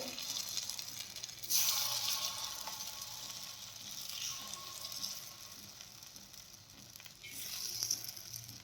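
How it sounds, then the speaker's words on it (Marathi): Moong dal appe batter sizzles in a hot appe pan, a bright hiss that swells sharply around a fresh pour, fades, then returns in gentler waves at close range. "आप्पे पात्र छान गरम झाल्यानंतरच आपल्याला त्यामध्ये आप्पे टाकून घ्यायचे आहेत आणि गॅस हा मध्यम ठेवायचा आहे"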